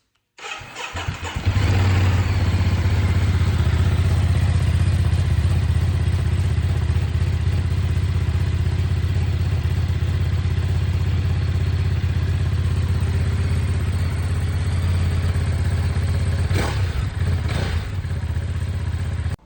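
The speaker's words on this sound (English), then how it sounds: "Here's my 2025 Monster SP with the Akrapovic titanium exhaust tip with the factory cat." A 2025 Ducati Monster SP 937 with an Akrapovic titanium exhaust tip, Y pipe and factory cat starts up and settles into a loud, steady, deep idle with a thick low rumble, close by, with a brief blip near the end.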